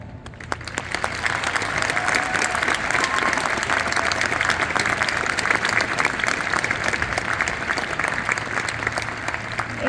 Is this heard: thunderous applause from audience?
yes